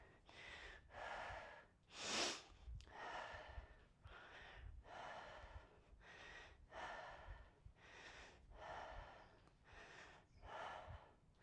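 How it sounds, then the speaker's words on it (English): Heavy, rhythmic breathing from someone recovering after single-leg exercise sets in a gym: about a dozen loud, close breaths in a steady pattern, one sharper gasp early on, with no talking. "Excuse my heavy breathing."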